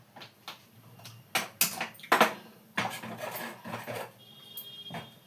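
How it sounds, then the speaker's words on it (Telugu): A clay pot knocked and scraped while korameenu fish curry cooks in it, with a run of close, sharp clinks and rasping scrapes, including a dense cluster of contacts midway, and quiet gaps between them. "ఇది మట్టి దాకలో వండుతున్నాను అనమాట"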